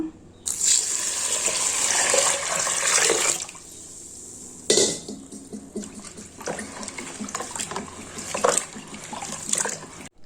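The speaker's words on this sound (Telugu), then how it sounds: "నీళ్ళు పోసి ఒకసారి కడుగుదాము." Water gushes and splashes in bursts, with pauses between, as rice and black gram are rinsed by hand in a bowl; close and fairly loud.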